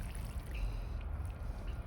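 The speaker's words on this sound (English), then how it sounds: "And then we're going to just water it in immediately." Water trickling and pouring onto a freshly planted vegetable in a newly built garden bed, a faint, soft splashing over low outdoor rumble.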